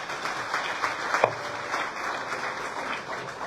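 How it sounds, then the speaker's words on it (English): Audience applause at a Liberian bank's official launch ceremony for a minister: a steady, moderately distant patter of many hands clapping throughout, with one sharper clap standing out. "Please clap for him again"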